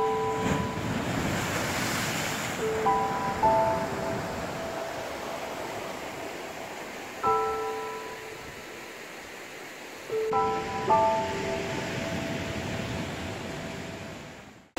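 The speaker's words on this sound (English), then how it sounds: "I tried to make sure I was well away from the waves as they crashed in" Ocean waves breaking on the Dorset coast at sunrise, a steady roar of surf with gusts of wind buffeting the microphone and a few brief surges as waves crash in.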